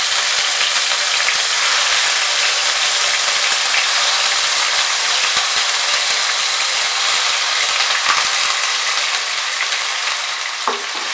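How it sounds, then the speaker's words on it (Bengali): Onion paste made from two medium onions sizzles in a pan over medium heat, a loud, steady crackling hiss with occasional stirring scrapes, no talking. "পেঁয়াজটাকে ফ্রাই করে নেব মিডিয়াম আঁচে 2-3 মিনিট"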